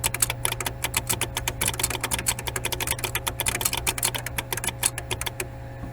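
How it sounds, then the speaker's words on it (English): Steady fast typing on an IBM DisplayWriter keyboard, dense loud clacking keystrokes in a continuous rhythm over a low electrical hum, ending in a brief quieter pause. "let's hear that keyboard in action."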